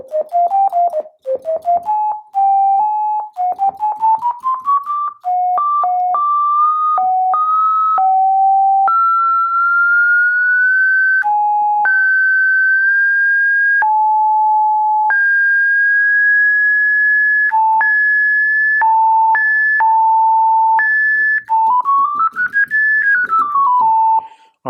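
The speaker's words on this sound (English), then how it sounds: "It can now be played through resonance as a sine wave oscillator." Self-oscillating filter resonance on a SCI Pro One synthesizer played as a pure sine-like tone, stepping through a melody of sustained and gliding notes, loud and clean with no talking.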